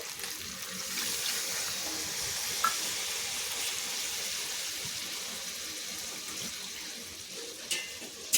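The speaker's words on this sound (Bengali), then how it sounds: "এরপর এখানে দিয়ে দেবো পরিমাণ মতন জল" Water is poured into a pan of vegetable curry with chal kumro (ash gourd) and large prawns, making a steady, close rushing splash that runs throughout with a faint sizzle underneath.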